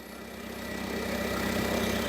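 A Nissan forklift's petrol four-cylinder carburetor engine idles close by with a steady, even low hum that swells slightly in loudness.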